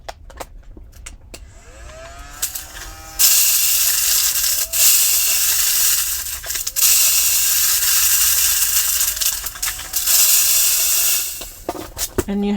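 A small vacuum sucks up tiny beads with a steady, loud hiss that cuts in and out in several bursts, with faint clicks and rattles between them.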